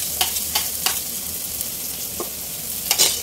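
Sliced ginger, shallots and garlic fry in hot oil with a steady hiss, punctuated by several quick scraping strokes of a spatula in the pan.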